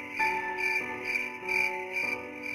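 Crickets chirping at night on a dark roadside, a steady rhythmic pulsing trill repeating about once a second, close and clear with no voices, used as a sound effect in a narrated horror legend.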